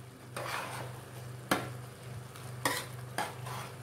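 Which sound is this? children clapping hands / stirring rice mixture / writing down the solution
stirring rice mixture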